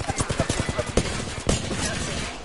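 Rapid automatic gunfire from the video game Apex Legends: a fast rhythmic burst of shots, then two heavier isolated bangs amid a busy, dense battle din.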